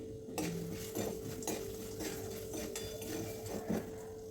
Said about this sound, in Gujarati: બધું સરસ મિક્સ કરશી.